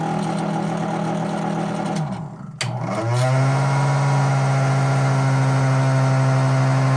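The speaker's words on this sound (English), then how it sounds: "The motor seems to be working a little too hard because of that rubber band." A small motor in a toy crane strains against a slipping rubber band, a steady buzzing hum that stutters and drops out briefly, then resumes as a smooth, louder drone, with no talking.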